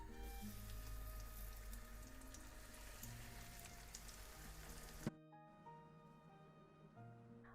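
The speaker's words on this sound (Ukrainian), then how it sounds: "і на сковорідку з розігрітою олією" Breaded triangles sizzle in heated oil in a frying pan, a faint steady crackling hiss that cuts off abruptly partway, leaving a quieter tail.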